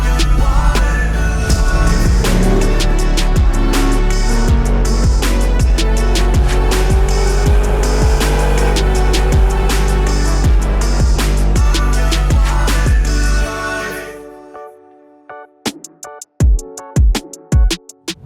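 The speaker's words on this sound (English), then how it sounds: "You want to take it for a little drive?" A car pulls away with a steady loud engine and road roar for about thirteen seconds, with rhythmic thumps, then drops off into quieter scattered knocks.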